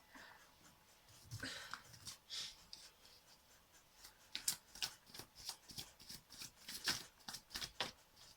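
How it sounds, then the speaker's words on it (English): Tarot cards are shuffled and pulled from the deck in soft, close riffling and flicking bursts, quiet and uneven, with a few sharper snaps near the end and no speech. "Okay, let's pull out more cards."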